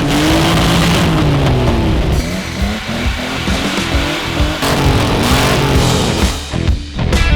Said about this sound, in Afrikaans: Hier in Van Wyksvlei hoor jy net engines wat